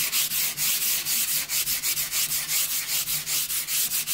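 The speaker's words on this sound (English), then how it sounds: "I'm going to sand over this very lightly." A painted wooden board is lightly sanded by hand, giving steady back-and-forth rasping strokes in an even quick rhythm, close and fairly loud with no voices.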